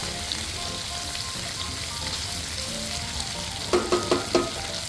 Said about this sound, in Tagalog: Mekos-mekos muna natin bago natin lagyan ng mga condiments.